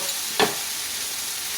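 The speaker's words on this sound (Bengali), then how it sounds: "আমার সজনে ফুল ভাজা" Drumstick flowers fry in a pan without spices, giving a continuous soft sizzle close by, briefly broken by a single quick scrape or clink of a utensil.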